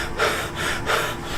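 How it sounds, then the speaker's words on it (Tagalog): Heavy, labored panting from a person catching their breath after carrying a heavy UPS unit, with several close, rhythmic breaths in and out heard alone. "Mukhang hinihingal ako."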